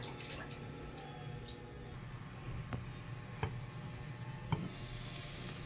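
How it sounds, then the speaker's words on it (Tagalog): A pot of water comes to a rolling boil on the stove for cooking rice, giving a steady low bubbling hiss with a few faint drips and clicks throughout. "Ayan, kulo na siya."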